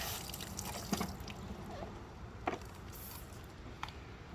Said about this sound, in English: I always like to spray out the inside of the pool cleaner